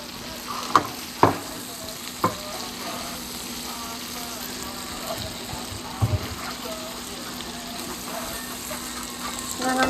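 Garlic steak bites sizzling in a pan, a steady close frying hiss with several sharp clatters as pieces are flipped and stirred, with a voice talking over it.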